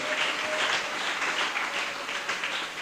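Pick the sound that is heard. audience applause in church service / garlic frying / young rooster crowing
audience applause in church service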